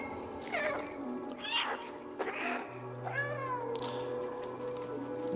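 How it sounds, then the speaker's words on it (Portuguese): A cat in the video game Stray meows several times in short, clear, drawn-out calls, close and fairly loud, over a soft ambient game background with a low steady hum. "Se a gente apertar a bolinha, a gente pode miar."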